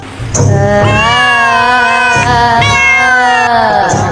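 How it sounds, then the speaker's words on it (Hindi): A cat meows loudly and close, a long drawn-out wailing call stretching over several seconds with a few rising inflections. "बिल्ली काली बिल्ली असल काली बिल्ली को डर नहीं लगता।"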